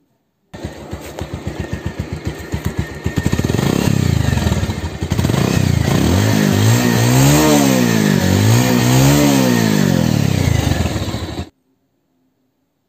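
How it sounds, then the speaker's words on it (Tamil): A Bajaj Pulsar 150 motorcycle engine idles with a steady thumping exhaust, then revs up and down several times in rising and falling bursts, loud and close. "இந்த பைக்கோட எக்ஸாஸ்ட் நோட் கேட்கலாம்"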